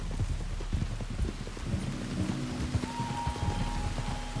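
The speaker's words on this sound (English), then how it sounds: "There's rain on the wind." Rain falls steadily in Red Dead Redemption 2, a soft constant patter mixed with horse hooves clip-clopping beneath it, with no one talking.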